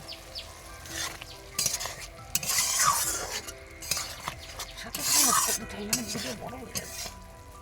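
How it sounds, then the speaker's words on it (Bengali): Raw green tomato curry with fish in mustard sauce, finished with a spoonful of ghee, being stirred in a pan, giving soft scraping and gentle sizzling with a few spoon clinks, close and moderately quiet, with a brief voice in the background. "ঘি দিয়ে নাড়াচাড়া করে নামিয়ে নেব।"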